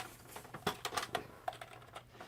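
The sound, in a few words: typing on a plastic membrane computer keyboard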